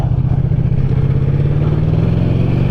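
A 2022 Ducati Diavel 1260S engine pulls hard under acceleration, a loud, close, steady throbbing roar with the pitch climbing gradually and no voices over it.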